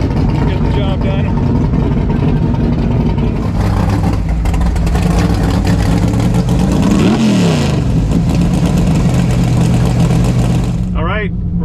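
A big-tire 1968 Camaro roars loudly down a drag strip, its engine revving and climbing in pitch before sweeping past and fading into continued engine noise.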